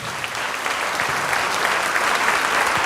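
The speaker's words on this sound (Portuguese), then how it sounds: "Vamos aplaudir ao Senhor Jesus" Church congregation applauding the Lord Jesus in a steady, dense wash of clapping from many hands, fairly close and building slightly toward the end.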